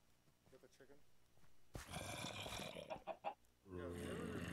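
Chicken clucking in the video game Minecraft, a few short clucks heard with other game noise and sounds layered in, fairly loud and close.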